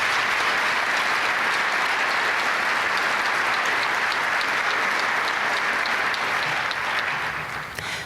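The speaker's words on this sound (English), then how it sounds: "Let's please give them one more round of applause." Sustained applause from a sizable audience at a Martin Luther King Jr. Day ceremony at a high school, an even roar of many hands clapping that fades a little at the close.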